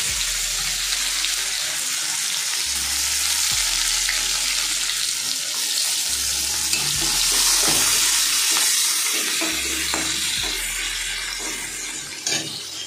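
Cumin, a bay leaf, green chili and onion fry in hot oil during a parwal recipe, a loud, continuous crackling sizzle with occasional stirring, close by and without speech.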